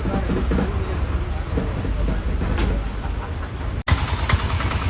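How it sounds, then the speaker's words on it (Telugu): A bus arrives at a rainy roadside stop near Kumarakom, Kerala, its engine a steady low rumble over broadband street and rain noise. The sound cuts out briefly near the end. "ఇది ఒక బస్సు వచ్చింది"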